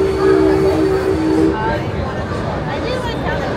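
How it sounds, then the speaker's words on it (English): Amusement park mine train ride at a Six Flags Halloween event, rolling steadily along its track with a continuous low rumble and a brief high whine early on, while people talk over it. "Alright, a haunted train."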